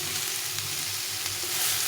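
Steady, close oil sizzle of stuffed pumpkin pieces frying, a continuous crackling hiss with no voices.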